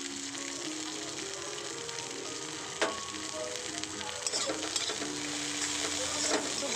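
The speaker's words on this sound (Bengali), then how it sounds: "একটু ভাজা করব" Garlic, curry leaves and chopped coriander fry in hot oil over a high flame for paneer snacks, a steady close sizzle broken by scraping and clinking as a utensil stirs the pan. No one talks.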